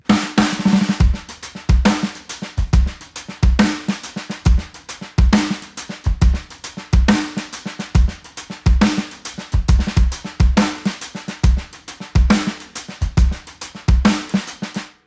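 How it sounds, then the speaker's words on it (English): A drum kit plays a steady halftime shuffle groove with ghost notes on the snare, kick, and cymbal/hi-hat triplet feel, loud, close and continuous with no talking. "It's a halftime shuffle groove."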